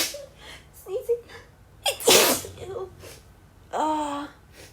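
One forceful, nearby sneeze from a woman, framed by brief breathy vocal noises and a short voiced sound at the end.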